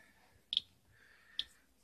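A radiation detector held near an Eden Pure space heater filter gives two sharp, isolated clicks almost a second apart over a quiet, faint background.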